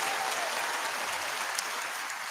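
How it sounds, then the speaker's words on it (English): Canned applause sound effect on a talk radio show, a dense, even crowd clapping sustained at moderate level for the whole stretch. "There's got to be an applause."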